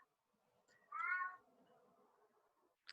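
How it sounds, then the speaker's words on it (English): A cat gives a single clear meow nearby in a quiet room, with faint soft sounds after it. "Is that a cat?"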